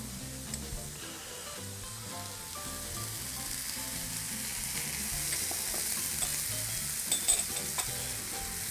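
Olive oil sizzles in a hot pan over lowered heat, a continuous hiss that swells slightly toward the end, with no one speaking.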